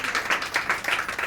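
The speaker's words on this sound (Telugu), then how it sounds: "చప్పట్లు కొట్టి దేవునికి మహిమ చెల్లిద్దాం" Rhythmic hand clapping from a worship congregation praising God, steady repeated claps at moderate loudness with no talk over them.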